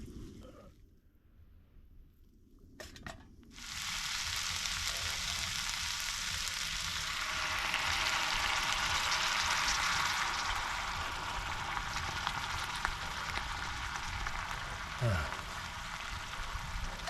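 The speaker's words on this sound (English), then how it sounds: "That's simmering nicely." Food simmers in a pan on a cooking fire during an overnight outdoor sleep-out, a loud steady sizzle that swells after a quiet start and holds close by, with a brief voice under it.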